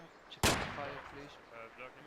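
A single sharp gunshot rings out in a military video game, one sudden loud crack whose echo tails off over the next second against a quiet background.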